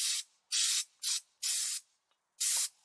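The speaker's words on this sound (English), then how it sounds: "let's see if I can do some sandblasting here" Sandblasting on garden furniture with an underpowered air compressor: five close, loud bursts of hissing, rushing spray, each lasting about a quarter to a third of a second and separated by short silent gaps.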